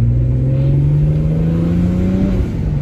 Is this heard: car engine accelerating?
yes